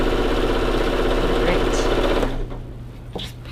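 A sewing machine runs steadily as it stitches a seam on a holiday poinsettia mini quilt, a loud, close, continuous mechanical hum that stops near the end and leaves a few faint clicks.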